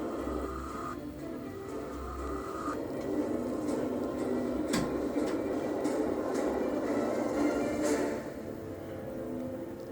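A subway train runs steadily with a continuous rumbling roar, a few sharp clanks and brief squeals over the constant rail noise, close by with no talk.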